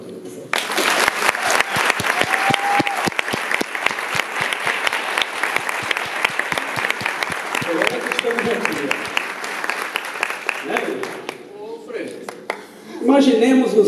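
A live music audience applauds in honour of a Brazilian samba singer, sustained dense clapping and cheering for about eleven seconds before it thins out, with some shouts near the end.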